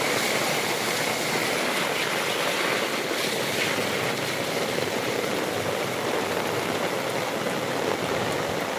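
Dirty rainwater rushes through a flooded concrete street in Bilkha during heavy rain, a steady, dense wash of flowing water that holds evenly throughout with no voices.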